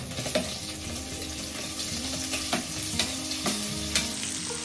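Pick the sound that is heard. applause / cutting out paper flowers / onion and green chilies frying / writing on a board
onion and green chilies frying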